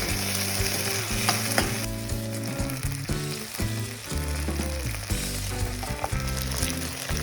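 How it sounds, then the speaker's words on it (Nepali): Capsicum and onion frying in a pan while making chilli momo, a steady, close sizzle that runs throughout beneath background music. "यो क्याप्सिकम अनि प्याज एकैछिन फ्राई गर्ने, धेरै फ्राई गर्नु हुँदैन।"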